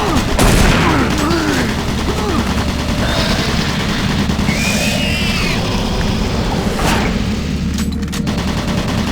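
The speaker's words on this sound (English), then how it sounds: "Automated turret guns online." In the Doom 3 video game, automated turret guns keep up a dense, continuous barrage of rapid shots with occasional louder blasts, heavy and close throughout.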